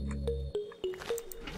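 Minecraft water bucket pouring water to clear tall grass, heard as a few short splashy squelches spaced about every quarter second over a steady low background hum.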